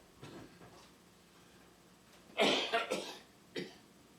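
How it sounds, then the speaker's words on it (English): A few harsh coughs close by from an older couple indoors, a cluster of sharp bursts followed by one more after a brief pause, over a quiet background. "your mother and I has been coughing ever since we had that flu shot"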